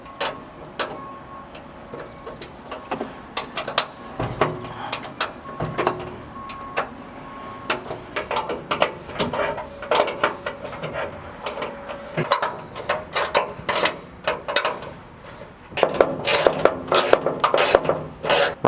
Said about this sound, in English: We've now got to tighten up the nuts and bolts on the frame.